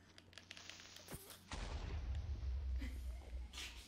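A Minecraft creeper explodes with a sudden loud boom that rumbles on for a couple of seconds, preceded by a brief hiss and faint game noises.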